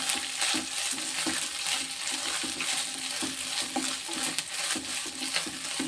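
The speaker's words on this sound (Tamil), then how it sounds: "தேங்காய் பூ போட்டுக்கணும் இதை வந்து நல்லா வதக்கிக்கணும்" Grated coconut and onions being sautéed in a pan for a Tamil pumpkin kootu, with a steady close sizzle and frequent rhythmic scraping stirs throughout, no talking.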